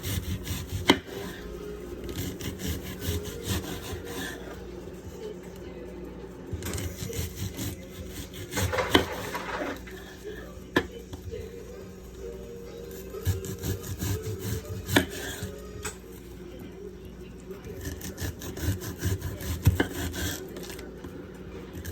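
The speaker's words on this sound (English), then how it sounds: "I'm just going to put it in slices because they will melt down on their own." A knife slicing food thin for Salisbury steaks, producing repeated soft cutting and rubbing strokes against a board at a steady, close rhythm with no talking.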